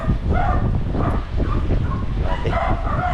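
Two caged puppies yipping and barking close by in quick irregular bursts, with a few whimpers mixed in and no talk.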